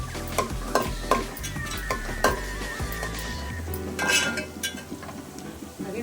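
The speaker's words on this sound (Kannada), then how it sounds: "ಬ್ರೌನ್ ಕಲರ್ ಆಯಿತು ಈ ರೀತಿ ಫ್ರೈ ಆಗಬೇಕು ಈರುಳ್ಳಿ" Onions frying in ghee and oil with cinnamon, cloves and cardamom for Mysore mutton biryani, a steady sizzle broken by repeated scraping stirs and light clinks of a utensil against the pan, close and without talk.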